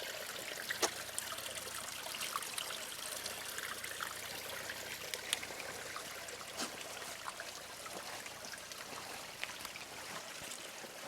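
Creek water flows and trickles over rock at Little Falls in the Blue Hills of Rusk County, a faint, steady outdoor babble with scattered small splashes and no talk.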